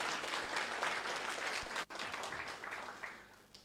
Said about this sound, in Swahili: Jamani tumpatieni makofi huyu jamaa